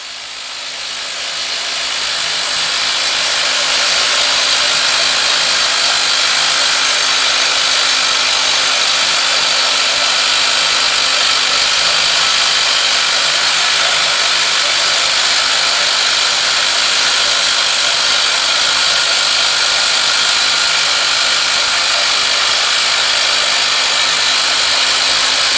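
A boom bolter drills a hole into mine rock underground, giving a loud, steady grinding roar that runs unbroken for the whole stretch after a short build-up at the start.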